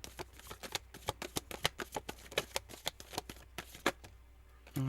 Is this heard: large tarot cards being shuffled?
yes